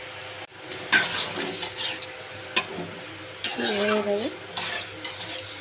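Curry being stirred in a pan after water is added, with scraping spoon-on-metal strokes, a soft background sizzle and a few clinks of utensils, close and moderately loud; a voice briefly speaks.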